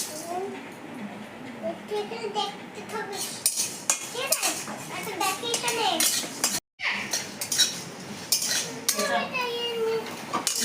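Cumin and whole coriander seeds dry roasting in a pan, with a spatula scraping and clinking against the metal in an irregular rhythm while voices talk over it.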